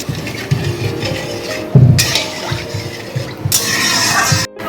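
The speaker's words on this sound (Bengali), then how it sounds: "তো এবার আবার এর মধ্যে দিয়ে দিলাম পরিমাণ মতন জল।" Water is poured into a simmering curry for doi katla fish in a kadai, giving splashy, hissing bursts of pouring against a quieter background of stirring and clinks.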